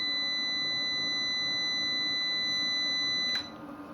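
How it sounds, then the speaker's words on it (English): A CertaUPS C300R uninterruptible power supply running on battery emits a continuous high-pitched electronic alert tone, steady and piercing, cutting off abruptly near the end. "There will be a continuous beep as an alert to tell you that you are in battery mode."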